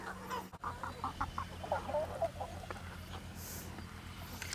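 Several chickens on an egg farm cluck in short, choppy bursts close by, scattered irregularly over a low steady background hum.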